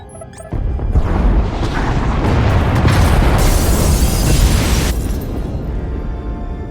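A loud, sustained explosion roars through the pod bays in the Star Wars: The Old Republic game. A sharp onset is followed by dense rumbling blast noise lasting several seconds before it eases slightly.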